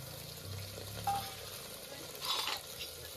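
Chopped onion and potatoes frying in a pan of hot oil while cooking yellow rice, a soft steady sizzle with a brief louder hiss and stirring clatter, quiet and close.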